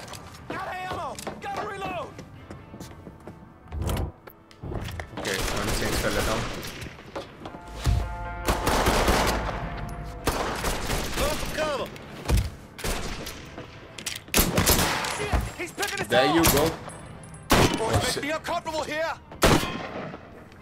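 Gunfire and sniper shots from the Mafia 3 video game, heard as a string of loud, sharp cracks and bursts spread across the stretch, mixed with someone speaking and other game sounds.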